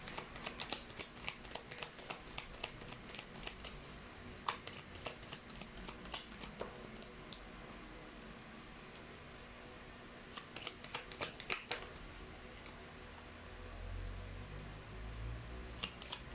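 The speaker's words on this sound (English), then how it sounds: "Let me just pull up 3 more cards." Tarot cards are shuffled close up in bursts of rapid riffling clicks, pausing midway and then resuming, with a soft rumble near the end.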